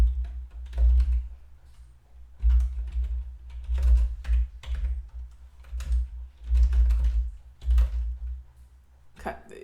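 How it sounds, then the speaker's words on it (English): Typing on a computer keyboard comes in bursts of quick, close clicks, with a low hum beneath and a voice talking between and over the keystrokes. "if I could type."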